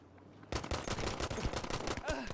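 Rapid bursts of close automatic gunfire in Battlefield V, a tight string of sharp shots following a brief quiet lead-in, loud and dense for about two seconds.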